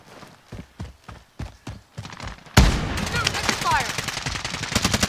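Gunfire in Call of Duty Warzone: a run of spaced single shots gives way to a sudden loud burst of rapid automatic fire and clattering impacts, with players' voices faintly underneath.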